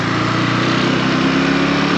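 A motorbike engine runs steadily up close on a Canadian street near a school zone, a continuous buzzing drone with no break for the full two seconds and no voices.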